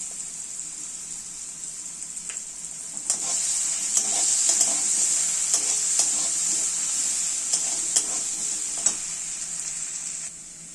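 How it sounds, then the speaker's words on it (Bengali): Salted potatoes sizzle steadily in a hot wok, a bright continuous frying hiss with scattered scraping clicks of stirring throughout. "আলুটা ভাজা হয়ে এসছে"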